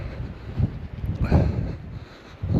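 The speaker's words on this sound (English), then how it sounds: "I'll keep the chatter to a minimum because it's a bit windy up here" Gusty wind buffets across a cliff top walk near Bridlington, rumbling low and surging in uneven bursts, loud and close as it pushes against the microphone.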